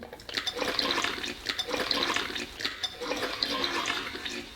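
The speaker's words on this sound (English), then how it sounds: "Put the water into a bowl." Water pours into a bowl in a home kitchen for making a pre-cooked corn flour dough, a continuous splashing, gurgling stream with rippling pulses, close and fairly loud.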